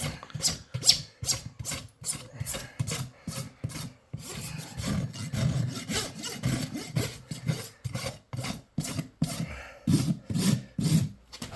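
A farrier's rasp filing down a horse's dorsal hoof wall, rhythmic rough back-and-forth strokes repeating every half second or so, close and gritty with brief pauses between passes.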